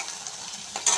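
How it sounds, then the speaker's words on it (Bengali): Paneer fries in a pan with a steady, close hiss that lifts into a brighter sizzle near the end of the brief stretch, with no voices. "ভেজে পনিরটাকে ভেজে দেখো কী করছি"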